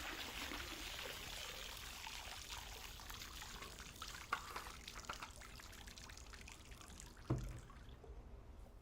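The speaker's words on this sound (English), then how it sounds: "we're going to have another sip of water" Water is poured into a glass with a steady trickling stream during a live stream, ending with a couple of brief clinks and a short sip at close range.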